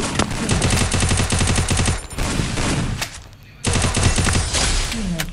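Rapid automatic gunfire in a first-person shooting game, loud sustained bursts with a brief pause in the middle, close and dense, with no talk over it.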